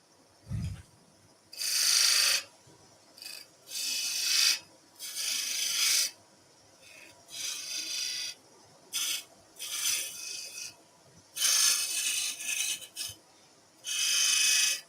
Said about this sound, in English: I'm scraping this bead in.